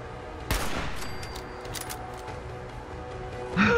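Gunfire from gunners attacking in Fallout 4, a sharp burst of shots followed by a scattered volley of quieter distant pops, no talking.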